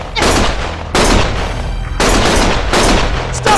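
Gunfire rattles in the video game Lost Judgment: loud, dense bursts of rapid shots in several back-to-back volleys, each cutting off abruptly before the next, with no speech over them.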